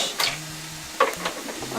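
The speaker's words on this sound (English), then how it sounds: "go ahead and mix your meat" Ground meat being mixed with pepper and Italian seasoning, soft squishy stirring and a few light clicks against a bowl, close and quiet, alone.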